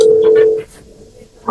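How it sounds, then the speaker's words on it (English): A telephone in a courtroom produces a steady dialing tone with quick keypad beeps over it, then the tone stops, leaving a short pause before a click at the end. "Let me call him."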